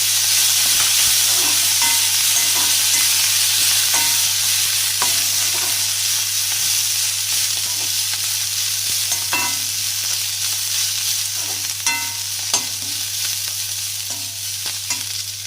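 Coriander seeds and curry leaves are sautéed in a pan for rasam, making a continuous loud close sizzle with scattered scraping and stirring clicks throughout.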